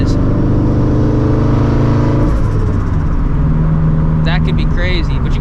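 A 400hp turbocharged Toyota FRS pulls hard under full throttle, its engine note loud and close in the cabin as it climbs through the revs, then shifts and keeps building, with faint chirps near the end.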